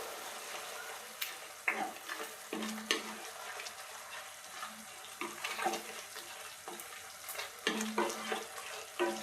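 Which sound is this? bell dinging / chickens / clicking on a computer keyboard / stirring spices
stirring spices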